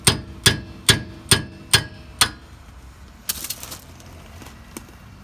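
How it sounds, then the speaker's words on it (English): A hammer taps a rusted rear brake rotor screw on a 2001 Acura CL 3.2L six times in a steady rhythm, each a sharp ringing strike. A few softer clinks and rattles follow. "Hammer."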